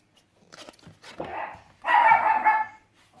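A dog barks a few times nearby, a couple of short yaps followed by a louder, longer bark, with quiet pauses between.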